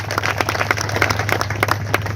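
Audience clapping in honour of first-time attendees at a gathering, a steady patter of many hands with a low hum underneath, alone without talk.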